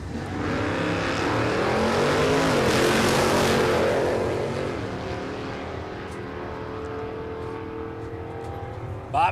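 A drag-racing hatchback at Warwick Dragway roars loudly as it launches and accelerates, the engine noise swelling to a peak and then fading as the car pulls away down the strip.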